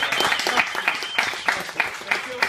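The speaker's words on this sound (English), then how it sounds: "So I just want a round of applause for you guys." Applause breaks out at a pizza competition judging event, with crowd clapping in a rhythmic, uneven pattern and voices talking underneath.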